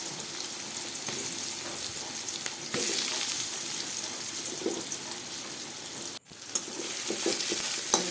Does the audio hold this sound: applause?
no